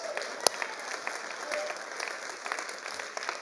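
A church congregation claps together during a sermon, a dense, even round of applause at moderate distance with one sharper clap standing out near the start.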